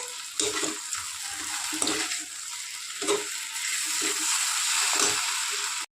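Chicken for chicken 65 sizzles and fries in a pan while being stirred, with repeated scraping strokes over a steady close hiss and no talking.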